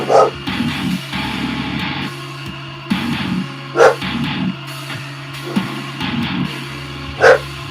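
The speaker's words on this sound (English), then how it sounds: "Pardon the barking doggy," An indoor house dog barks repeatedly at furniture delivery workers, sharp loud barks in bursts every couple of seconds over a steady low hum.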